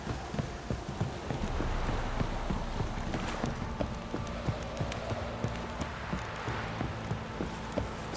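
Horse hooves clip-clop in The Witcher 3 video game, a steady run of soft, rhythmic footfalls over a busy background of ambient game noise with occasional sharper knocks.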